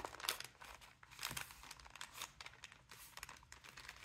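Paper bag being folded lightly by hand for a craft clutch, giving soft crinkles and brief crunches in an irregular rhythm, close and fairly quiet, with no talking.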